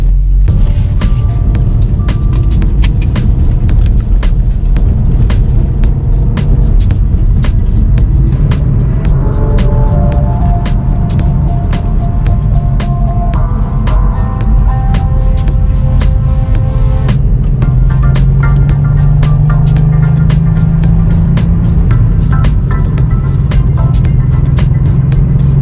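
Subaru STI on its first drive after an engine swap, a loud continuous engine and road drone from inside the car with shifting revs and gear changes throughout.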